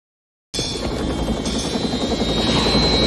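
A helicopter rotor and turbine drone starts abruptly after a half-second of silence and continues as a loud, steady, close whir throughout.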